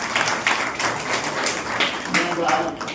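Audience at a Lokayukta awareness talk in Hosur breaks into scattered, uneven clapping that swells and fades in bursts, with a voice speaking over part of it.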